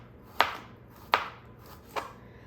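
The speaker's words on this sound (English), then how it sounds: "I'm gonna cut up just one carrot." Knife chopping a carrot on a cutting board, three crisp, evenly spaced chops close by, each a sharp knock with a short decay, over a quiet background.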